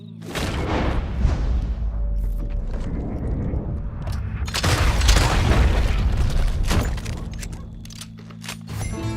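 Gunfire in the open-world western game Red Dead Redemption 2, with several loud, booming shots and rumbling impacts over a continuous game soundscape of low hum and clatter.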